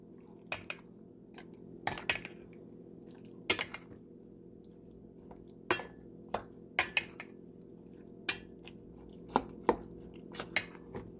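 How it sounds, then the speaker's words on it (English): A spoon stirs vegetarian tuna salad with brown mustard and dill relish in a bowl, giving sporadic wet squishes and sharp clinks against the dish over a quiet background. "Now I'm going to stir like it's my full-time job"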